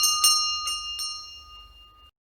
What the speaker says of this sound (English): He moved it back and forth and it made a loud tinkling sound.